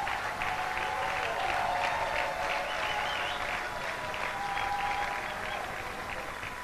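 A church congregation applauds the deacon's wife at a seventieth-birthday celebration for a reverend, steady sustained clapping from many hands filling the room evenly throughout.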